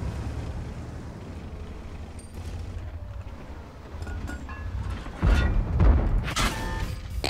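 Tank cannon shot in the World of Tanks video game, a loud booming blast rising out of steady mechanical engine rumble and wind-like noise, followed by further heavy bursts.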